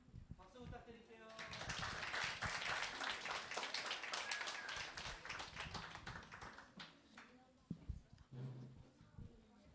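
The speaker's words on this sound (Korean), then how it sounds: "박수 부탁드릴게요." A church congregation claps for a children's class, with dense applause swelling and then thinning out, mixed with some voices and taps nearby.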